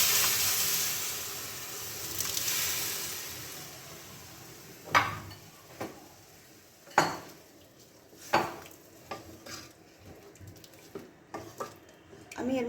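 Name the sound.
boiled masoor dal poured into frying pan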